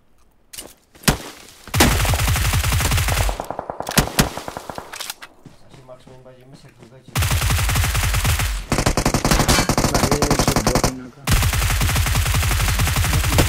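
Video game gunfire crackles in rapid automatic bursts, loud and close, with a quieter lull in the middle before heavy sustained firing returns. A voice is faintly heard at times.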